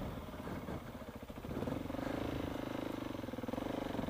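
A KTM 690 motorcycle engine runs under load while riding in strong wind, a choppy rumble that steadies after a moment into a loud, sustained drone with pulsing throttle and a rising pitch.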